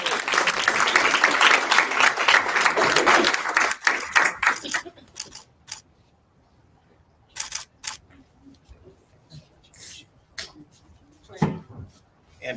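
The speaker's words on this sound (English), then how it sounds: "Let's give him a big round of applause." Audience applause at a board meeting, a dense burst of clapping for several seconds that fades out, followed by scattered clicks and quiet room noise.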